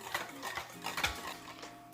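Cake batter being mixed in a bowl with a utensil, soft scraping and clinking strokes repeating in a loose rhythm, close and fairly quiet.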